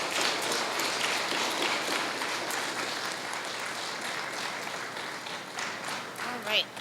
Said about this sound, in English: Let's give another round of applause for all of our presenters today.